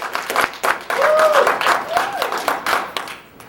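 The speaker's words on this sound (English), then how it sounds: "So let's all give Nick a nice warm applause" Warm audience applause greeting a motivational speaker, dense clapping with a few cheers and voices mixed in, fading toward the end.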